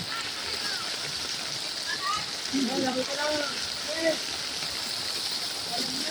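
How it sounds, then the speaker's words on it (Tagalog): Heavy rain pours steadily during flooding in Mandaluyong, a dense, continuous hiss of water with occasional splashes, heard close and fairly loud throughout. "Malakas na naman ang ulan."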